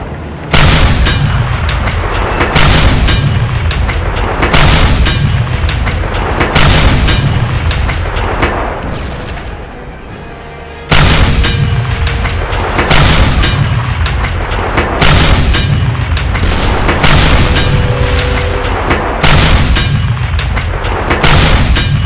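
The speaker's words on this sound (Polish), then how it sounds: "Tanks! And they're heading this way! The anti-tank gun!" An anti-tank gun in the video game Mortyr 3 fires at tanks in a long series of loud, heavy booms spaced a couple of seconds apart, each followed by a rumbling tail, with a brief lull partway through.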